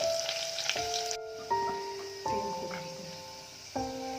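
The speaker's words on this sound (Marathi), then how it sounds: "त्यानंतर ठेचलेली लसूण टाकावी. ही लसूण जरा चांगली लालसर परतून घ्यावी." Crushed garlic fries in oil as a soft, steady sizzle, overlaid by sustained tonal notes that begin in steps, like a chime or music in the background.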